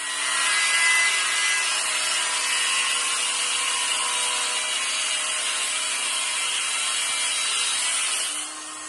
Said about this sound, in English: just shaving down the edge of the oil drain line from the turbo, which didn't quite fit on the new turbo, so just needed profiling slightly with the angle grinder